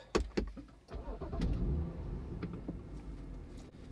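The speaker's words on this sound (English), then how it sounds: "let's turn on the car" A Stage 2 tuned BMW 435i starting up: a few sharp clicks from the ignition, then the engine catches and settles into a deep, steady rumble close by.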